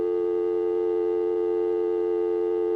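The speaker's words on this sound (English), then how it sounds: "it gave me a second dial tone," A continuous, steady telephone second dial tone hums without interruption, a clean harmonic drone with no voices.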